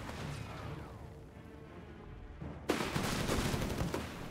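Gunfire from a German Sturm squad in Company of Heroes 3, a World War II strategy game, fired at a US rifle squad: faint bursts early, then a sharp crack and a dense, rattling volley of shots in the second half.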